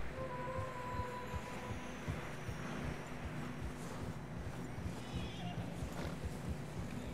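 Horse hooves clop in a steady rhythm through snow in Red Dead Redemption 2, with a faint neigh and game ambience, and a voice talking over parts of it.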